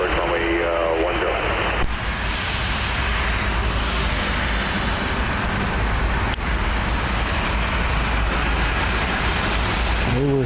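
Lone Star 1 airliner pushing back at CMH airport, a steady loud jet engine roar that fills the whole clip, with traffic-like rumble underneath and voices talking over it.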